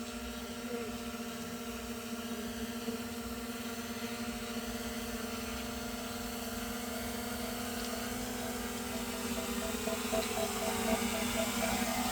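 A small drone hovering overhead while flying back to land in a marked circle, a steady high whining propeller drone with constant tonal hum, slightly louder toward the end.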